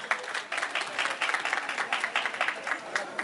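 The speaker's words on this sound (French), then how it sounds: "Aïsanatou Diallo, qu'on applaudit très fort." An audience at a Guinean independence anniversary celebration applauds for an honoured guest, a sustained stretch of many hands clapping at moderate volume with some pulsing in the rhythm.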